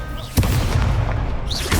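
Confringo spell blast from Hogwarts Legacy, a single sharp, loud booming hit followed by rumbling crackle and a whooshing spell effect, with a voice faintly present.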